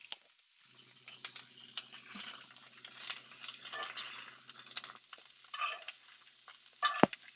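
Food basted with melting salsa verde butter in a pan: quiet crackling sizzle with spoon scrapes and light pan clinks, a soft hum underneath for the first few seconds, and a sharper clatter near the end.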